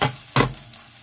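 Garlic and shallot hit hot olive or sunflower oil in a pan, a brief close sizzle with one sharp burst of frying crackle in the middle, then softer spitting.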